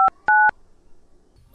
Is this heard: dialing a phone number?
yes